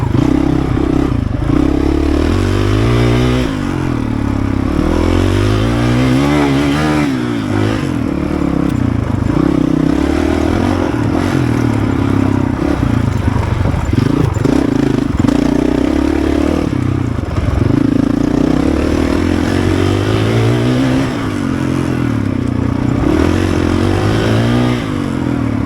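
A Honda CRF450RL enduro dirt bike ridden on a trail, its engine loud and close, rising and falling with repeated revving and throttle changes over clattering and scraping, continuous throughout.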